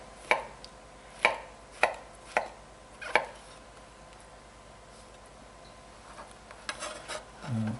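Five crisp knife chops through vegetables on a cutting board for a pork, bacon and cabbage stir fry, spaced about half a second apart and fairly close, then quieter rustling handling.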